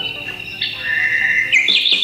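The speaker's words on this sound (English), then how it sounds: "The third one is kind of jungle." Jungle soundscape from a Tecboss wake-up light, with bright bird calls and warbling chirps layered over a constant humming ambience, growing slightly louder and busier toward the end.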